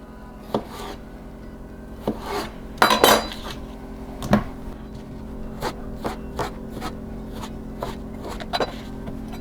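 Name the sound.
knife cutting potato into wedges, pieces thrown in bowl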